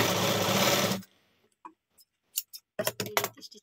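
A sewing machine runs a quick line of stitches on a blouse in one dense, fast burst of about a second, followed by faint scattered clicks and handling noises.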